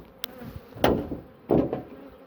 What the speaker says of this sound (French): il reste des abeilles dans le toit